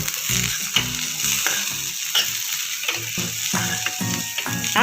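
A spoon stirs the vegetable filling for farali masala dosa in a pan after it cooks covered on low heat. Repeated scraping strokes with squeaky metal-on-pan tones sound over a continuous close sizzle.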